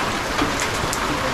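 Steady early-morning rain pours down in a dense, even hiss, loud and close, with no pauses and nobody speaking.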